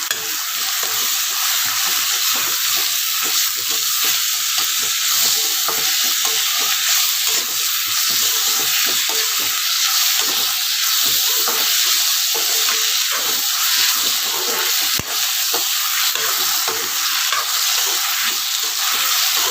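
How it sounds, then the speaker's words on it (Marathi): Potato pieces sautéing in a pan on a gas stove for poha, a loud continuous sizzle and hiss held close throughout, with one brief click partway through and no talking. "आणि आपण हा बटाट्याचा पीस टाकणार आहोत. परतून घेणार आहे 2 मिनटं हाच गॅसवरती."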